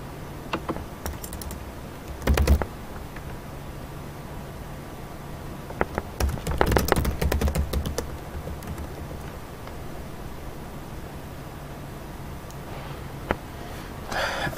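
Someone types on a computer keyboard in a quiet room, with scattered short bursts of soft key clicks separated by long stretches of faint background hiss.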